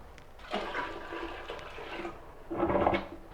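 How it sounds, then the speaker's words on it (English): A toilet flushes waste water from a lead-safe work site cleanup, with a surge of rushing water at the start and a second louder gush near the end, close by and with no talk. "And then that water can be dumped down the toilet."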